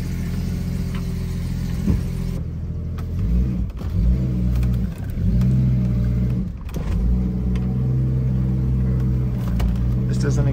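A 30-year-old Jeep ZJ being driven up a street, its engine loud and rumbling with repeated revving surges and dips, close up, while a person talks over it.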